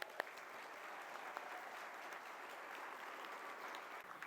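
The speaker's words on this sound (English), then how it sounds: "One more round of applause for all of our graduates." Applause for graduates at a graduation ceremony, a faint, distant and steady wash of many hands clapping, with a few sharper claps standing out near the start.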